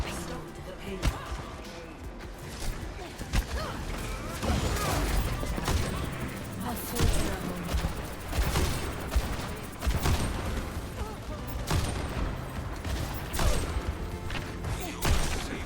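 Rapid gunfire from the video game Overwatch, with a sniper nearby, crackling in dense bursts over a busy mix of impacts and effects, while a voice talks over parts of it.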